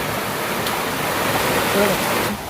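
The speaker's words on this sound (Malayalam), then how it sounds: "ഏഴരക്കുണ്ട് വെള്ളച്ചാട്ടത്തിൻ്റെ മുകളിലെ വെള്ളച്ചാട്ടം" The upper fall of Ezharakkund waterfall roars as a loud, steady broadband rush of falling water close by, with a voice speaking briefly beneath it.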